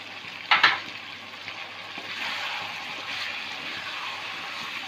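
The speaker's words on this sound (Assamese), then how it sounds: "এতিয়া ইয়াত মই বিলাহী আৰু আলু দি দিম।" Tomatoes and potatoes drop into a hot pan and fry, opening with a brief splashy burst before a steady, moderate sizzle continues close by without talk.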